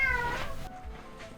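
A cat meows several times up close, sharp rising cries heard over a quiet room with no talking.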